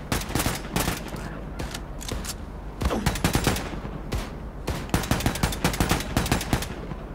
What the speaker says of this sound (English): BJ is getting extra health from shooting at enemies.